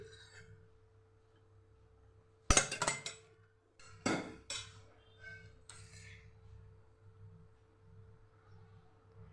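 A metal spoon clinks against a pressure cooker on a lit gas stove as oil is added, giving a few sharp, close knocks and rattles over a faint steady hum.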